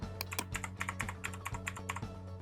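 A computer keyboard clicks out a phone number as a quick, steady run of close, crisp keystrokes with no voices over it.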